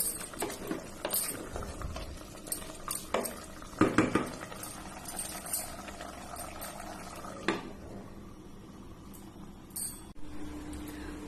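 Beef braising in a pot is stirred with a utensil, giving repeated scrapes and clinks against the pot over a soft, steady sizzle and bubbling, with a louder burst of stirring in the middle.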